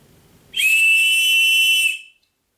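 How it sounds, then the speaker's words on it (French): Emergency whistle built into an Opinel Outdoor No. 8 folding knife, blown once in a single loud, piercing, steady high-pitched blast lasting about a second and a half, close up and alone. "Alors attention les oreilles, je vais siffler."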